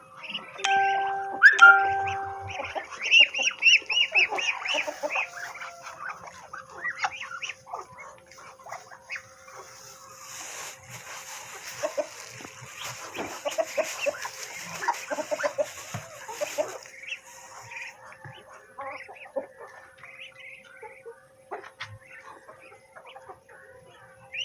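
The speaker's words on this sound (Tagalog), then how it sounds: "Kasalukuyan pa lang siyang nangingitlog." A backyard hen clucking while laying eggs, with soft, irregular clucks and murmurs at close range alongside a doorbell-like chime, scattered knocks and splashes, and a faint steady hum throughout.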